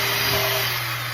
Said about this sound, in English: and then go ahead and drill the hole.